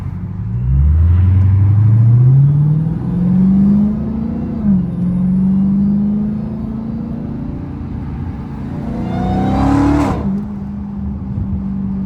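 A Dodge Hellcat's engine rumbles deep and loud while driving through traffic, rising in pitch as it accelerates, settling, then revving sharply again near the end.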